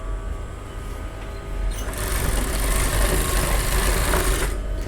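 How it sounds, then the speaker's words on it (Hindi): Sewing machine stitching a strip for a collar blouse, a steady rapid mechanical whir that starts softer and grows louder and fuller after about two seconds, running continuously throughout. "इस पे हम कच्ची सिलाई लगाएंगे"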